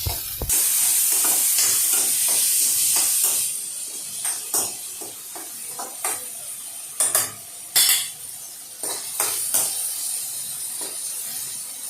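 Turkey berries (sundakkai) sautéing in a pan, a strong opening hiss that fades into softer sizzling broken by scrapes and clinks of a stirring spoon, heard close and alone.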